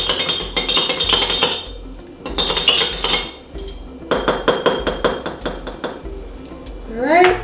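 A spoon stirs espresso in a cup for a pumpkin spice latte, clinking rapidly and rhythmically against the sides in loud bursts separated by short pauses.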